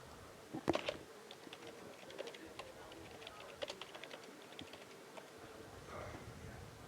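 Typing on a computer keyboard at a presentation, with soft scattered key clicks in quick bursts, faint and close against a quiet room hum.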